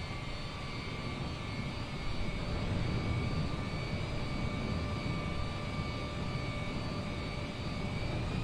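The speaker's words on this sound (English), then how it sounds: "Looks like the Boeing 787 Dreamliner from the bottom view. Yeah, this is the Boeing 787-10." A Boeing 787-10 Dreamliner jet at Miami airport roars as a steady, broad engine rumble with a faint whine on top, constant and fairly distant throughout, with no voices.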